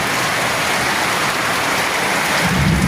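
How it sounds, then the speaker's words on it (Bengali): Heavy rain pours down steadily over Dhaka in a dense, unbroken hiss of drops on surfaces, with a low thunder rumble swelling toward the end. "চতুর্দিকে শুধু বৃষ্টির শব্দ আর ঝুমঝুম শব্দ"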